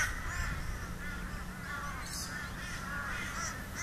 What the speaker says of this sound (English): crow is trying to steal the food of the rosella